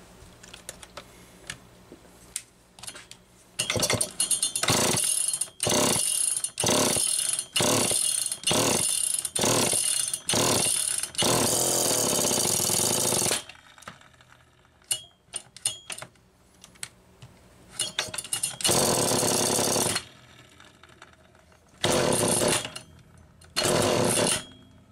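A Homelite Super EZ chainsaw with a Wico ignition system runs in rough, stuttering bursts during a test run. Its engine revs repeatedly in short pulses, then gives longer roars separated by quiet gaps.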